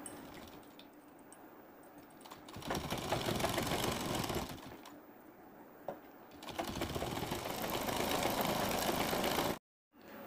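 Lace is being stitched onto a double-frill sleeve on a sewing machine, which runs in loud, steady bursts with brief pauses between them, close and clattering and free of talk.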